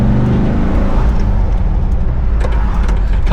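A 1978 VW Riviera camper with a freshly rebuilt engine being driven, a loud, steady engine drone and road rumble filling the cabin throughout, no break in the noise.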